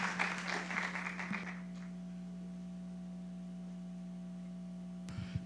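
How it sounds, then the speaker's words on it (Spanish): An audience at an evening round-table event gives brief applause that dies away after about a second and a half, leaving a steady electrical hum. "Un fuerte aplauso, por favor, para Marco Raúl."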